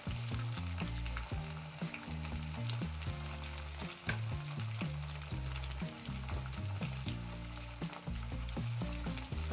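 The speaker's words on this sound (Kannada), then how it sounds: "ಎಣ್ಣೆಲ್ಲ ಫ್ರೈ ಮಾಡಬೇಕು ಇದನ್ನು." Stuffed brinjal frying in oil in a pan for a curry, a steady close sizzle with scraping stirring strokes running throughout, no voices.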